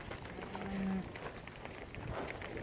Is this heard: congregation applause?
no